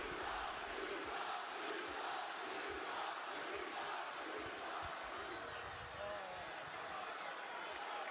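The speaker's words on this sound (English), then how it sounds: "Okay, the crowd is hot." A packed WWE Smackdown arena crowd roars in a continuous wash of cheers and jeers, with rhythmic surges and scattered shouts throughout.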